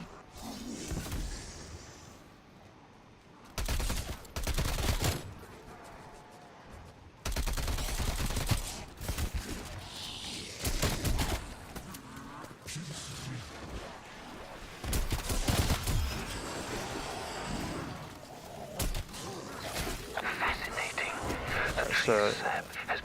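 Gunfire in Call of Duty Cold War Zombies comes in several loud, separate bursts between quieter stretches, with a voice speaking softly over the game sounds.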